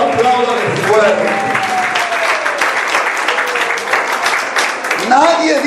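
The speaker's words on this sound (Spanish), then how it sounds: "si le va a aplaudir, apláudale fuerte" Church congregation clapping loudly and steadily for several seconds, with a voice speaking over the applause.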